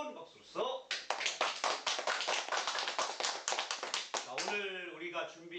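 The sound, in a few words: audience applause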